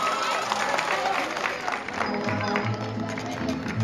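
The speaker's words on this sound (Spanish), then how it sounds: "Un aplauso, por favor." Crowd applause and cheering at a vote count for festival queen candidates at the 2019 Divina Providencia celebrations, a dense, steady wash of clapping and voices with a low hum underneath throughout.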